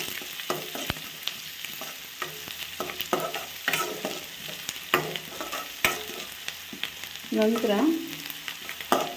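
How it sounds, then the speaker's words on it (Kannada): Green chillies fry with onions in hot oil in a pan, a soft steady sizzle broken by frequent scraping and clinking stirs of a spoon, close by, with a single spoken word. "ಈರುಳ್ಳಿ ಚೆನ್ನಾಗಿ ಎಣ್ಣೆಲೆಲ್ಲ ಹುರ್ಕೊಂಡು, ಇದು ನೋಡಿ ಹೀಗೆ ಬಿಡಿ ಬಿಡಿ ಆದಮೇಲೆ ಹಸಿಮೆಣಸಿನ್ಕಾಯಿ ಹಾಕ್ಕೊತಾ ಇದ್ದೀನಿ."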